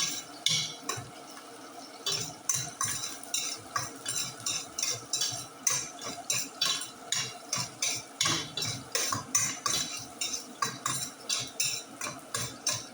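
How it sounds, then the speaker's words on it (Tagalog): Onion and garlic sautéing in a pan, stirred steadily with a metal utensil that scrapes and clinks against the pan in an even rhythm over a soft sizzle. "Nasusutay na yung sibuyas na."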